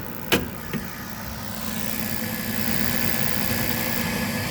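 A gas furnace on a no-heat service call tries to fire: two sharp clicks early on, then a steady broadband rushing hum that holds loud to the end.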